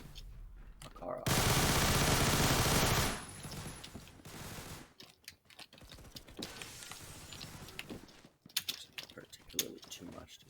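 SMG Makarov firing in the Phantom Forces video game: one loud, dense burst lasting about two seconds, followed by quieter clicking and keyboard tapping, with a voice talking at moments.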